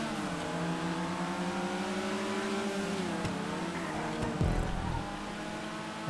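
Weevil cars racing and overtaking in GTA 5, with a dense layered engine drone of several cars whose pitch rises and falls, a heavier rumble near the end, moderately quiet with no talking.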